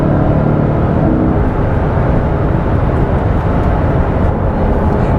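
A Mercedes-AMG GT accelerating hard on a road trip toward Paris, with a loud, steady engine and road roar that holds at full volume the whole time, close and unbroken.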